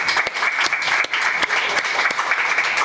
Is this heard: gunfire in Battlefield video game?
no